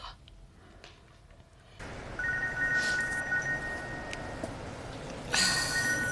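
A telephone rings with an incoming call, a steady electronic ring that starts after a quiet stretch and repeats, fairly close and clear with no talking over it.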